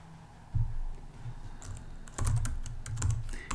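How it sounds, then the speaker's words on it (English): Someone types a login command into a command line on a computer keyboard, producing quiet, irregular bursts of close key clicks and taps without any talking. "our first step is to type in Heroku login to our command line"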